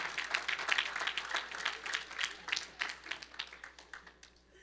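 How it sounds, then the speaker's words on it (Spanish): Scattered clapping from a small crowd, uneven and fairly close, rising and falling in short bursts without any voices. "Si van a aplaudir, aplaudan, no se pongan ahí."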